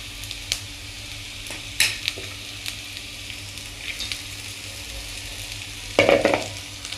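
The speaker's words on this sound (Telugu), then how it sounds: "దీన్ని బాగా వేయించుకోవాలి." Onion and dried red chillies fry in a pan with a soft sizzle, broken by a few sharp stirring scrapes and clicks of a utensil, one louder burst near the end.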